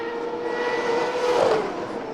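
A Champ Car racing car screams past on a qualifying lap through the Toronto street circuit, a loud, high-pitched engine note that swells and bends in pitch as it goes by.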